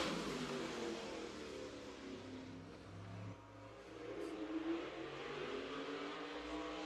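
Modified race cars at Madera Speedway accelerating around the oval, a steady broad engine roar with rising and falling revs as cars pass, loud and continuous without talk.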